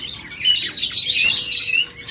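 A pet bird pair, a lutino female and a classic male, chirps in a quick run of high, bright tweets that crowd together, close and fairly loud, with no voices over them.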